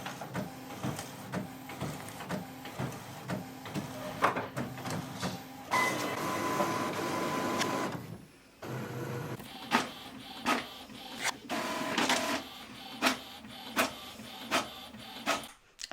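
A printer whirs and clacks through its pages, rhythmic mechanical feeding strokes with a stretch of continuous running, close by and fairly quiet.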